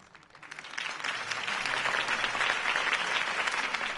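Crowd applause in a Telltale Games Batman video game after a mayoral campaign speech; dense clapping swells up from quiet and holds steady, moderately loud, with no talk over it.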